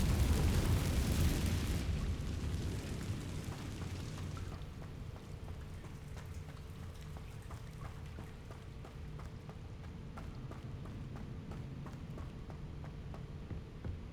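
Spell explosion from the Confringo curse in Hogwarts Legacy, a loud blast that roars at the start and fades over several seconds into a long rumbling tail with scattered crackles.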